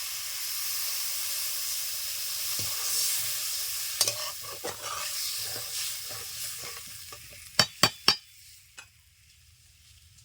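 Water goes into cabbage and potatoes frying in a pan, raising a loud hiss of steam that fades gradually, followed by several sharp clinks and knocks of a utensil against the pan.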